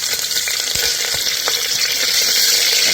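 Moong dal dry-roasting in a pan for a no-onion, no-garlic moong dal khichdi gives a loud, continuous hiss close by, dotted with light scraping clicks from stirring.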